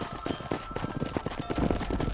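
Horse hooves clip-clopping at a steady riding pace during a cattle drive in Red Dead Redemption, a continuous rhythmic trot close up with faint background voices.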